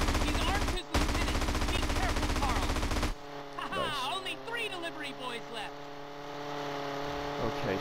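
Rapid gunfire in GTA San Andreas, a dense, loud burst of shots for about three seconds, then an engine whine and game sounds as a voice talks over it.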